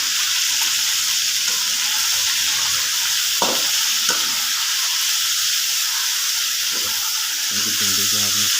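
Chicken sizzling steadily in a pan for a bandi gosht recipe, a constant hissing fry with occasional stirring scrapes and a brief voice near the end.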